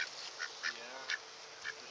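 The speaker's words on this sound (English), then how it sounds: "Oh, you not nice duck." Several ducks, among them mud hens and a white duck, quack in short nasal bursts scattered across the moment, fairly close and moderately loud over a steady outdoor hiss.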